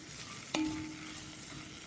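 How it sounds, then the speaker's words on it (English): Onions and garlic for a beef stew caramelize over heat in the bottom of a pan, giving a faint, steady sizzle with a single sharp clink of a utensil partway through. "I am letting them caramelize in the bottom of the pan on this heat."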